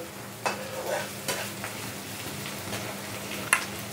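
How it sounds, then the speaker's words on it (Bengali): Onion stirred and frying in a pan while suji upma is being cooked, with a steady soft sizzle and a few sharp scraping clinks from the spoon at intervals. "এবার পেঁয়াজটা একটু নাড়াচাড়া করে নিলাম।"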